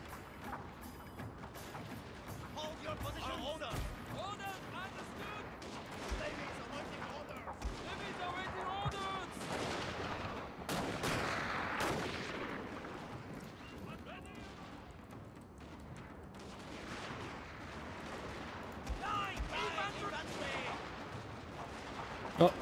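Sustained volleys of gunfire and artillery booms from a Total War: Fall of the Samurai castle siege, with line and garrison infantry taking return fire, rolling continuously at moderate loudness with someone talking over the battle.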